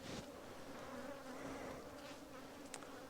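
Honeybees buzz steadily in a drone-laying hive on a cold autumn day, a dense continuous insect drone close up with no talking.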